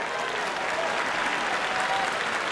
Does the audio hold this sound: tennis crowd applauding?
yes